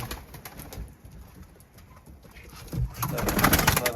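Pigeons coo softly nearby in a coop amid rustling and shuffling, the cooing growing louder and busier toward the end.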